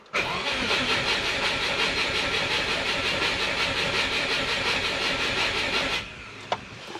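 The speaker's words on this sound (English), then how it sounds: "I just disabled the injectors and let's start it up for a couple of seconds" A turbocharged Subaru Forester engine cranks continuously with its injectors disabled, a fast even rhythmic whirring that is loud and close for about six seconds before stopping, followed by a faint click.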